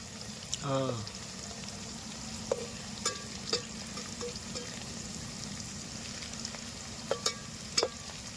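Onions fry in a pan with a low, continuous sizzle, punctuated by a few sharp clinks and scrapes of a utensil against the metal.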